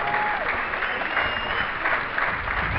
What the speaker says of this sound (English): Warm applause from the crowd in at New Road.